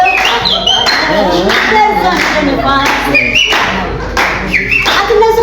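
People at an Easter cultural celebration clapping along in rhythm, steady loud claps mixed with singing voices.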